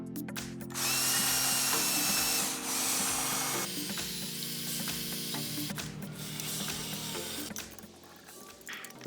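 Pipe clamping system being swapped back and forth while lowering a deep well pump pipe: steady mechanical ratcheting and clicking with a grinding, motor-like drone that shifts pitch in stages, close and fairly loud, with no talking.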